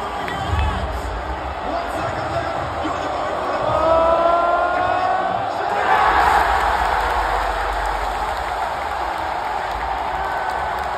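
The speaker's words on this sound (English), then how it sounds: "The crowd was deafening" An arena crowd at the Rocket League World Championship roars and cheers, swelling twice to loud peaks, while a commentator's voice carries over the noise.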